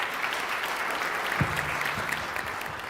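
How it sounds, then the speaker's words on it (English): At a Christmas jazz concert, an audience applauds a trumpet and flugelhorn player with a full, continuous wash of clapping. A brief low tone sounds partway through. "Give a big round of applause."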